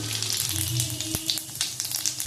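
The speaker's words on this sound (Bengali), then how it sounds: "তেল গরম হয়ে গেছে জিরেটা দিয়ে দিলাম" Cumin seeds dropped into hot oil for chana dal sizzle with a steady, crackly hiss, close and moderately loud, with a few sharp pops and faint stirring.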